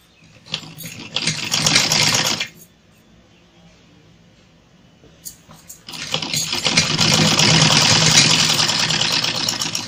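Sewing machine stitching a strip onto a blouse, running in two loud, close bursts with a quiet gap between them.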